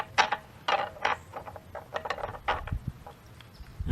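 Clamps fitted onto a Hayward S200 sand filter produce close, rapid plastic clicks and ratcheting snaps in an irregular patter, with no voices.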